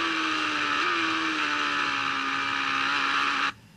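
A motorcycle engine on a track day at Blyton circuit, a steady loud droning engine note with a slight pitch rise, holding level for over three seconds before cutting off abruptly, no talk.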